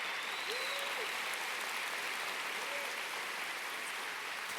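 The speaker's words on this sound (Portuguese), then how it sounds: "Você pode dar uma salva de palmas para o Senhor?" A church congregation claps together in sustained, even applause, a dense patter of many hands with a couple of faint whistle-like tones rising above it.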